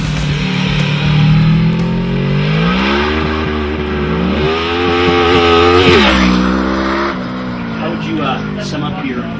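A 2009 Yamaha Star VMax with its nearly 1700cc, 200 horsepower V4 engine revs loudly and repeatedly, its pitch rising and falling in sweeps close to the microphone, with no speech over it.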